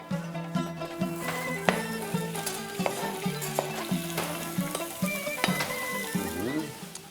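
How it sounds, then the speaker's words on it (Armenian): Meat sizzles and crackles in a pan under steady spoon stirring and clinks, with music or a voice faintly in the background. "Հիմա այս միսը կավելացնեմ տապակի մեջ։"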